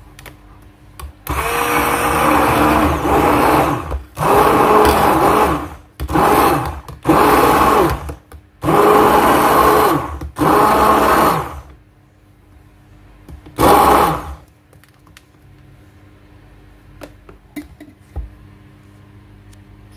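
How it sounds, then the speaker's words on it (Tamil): A blender whirs in loud bursts of several seconds each, mixing the oil and water phases of a rose aloe body lotion, with short pauses between runs and a final brief pulse before quiet. "இப்போ வந்து நம்மளோட ஆயில் ஃபேஸியும் வாட்டர் ஃபேஸியும் blend பண்ணிக்கலாம்"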